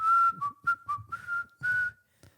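A person whistles a short, halting tune of about half a dozen bright notes with brief gaps, close and clear, unaccompanied by talk.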